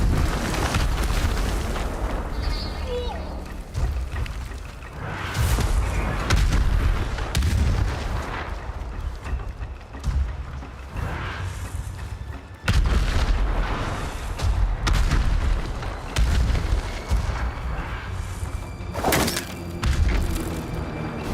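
Enemy gunfire and explosions in the Ghost of Tsushima video game: heavy booming blasts and cracking shots repeat throughout, loud and dense, with sharp bursts landing every few seconds over a constant rumbling din.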